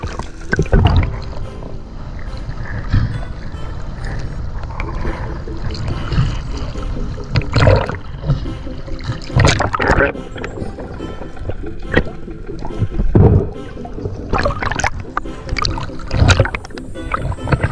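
A small boat approaching through choppy sea water, with repeated splashes and sloshing waves under a low rumbling hum, close and fairly loud throughout.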